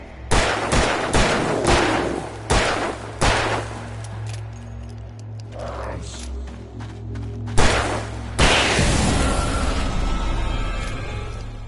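Loud, close gunshots in the video game Alan Wake Remastered, a rapid volley of sharp cracks followed by a few spaced single shots with echoing tails and a low ambient drone between.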